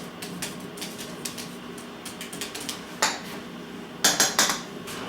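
Glass jars for cherry jelly being set out on a counter, with a run of light clinks and knocks, a few sharper and louder near the end, and no voices.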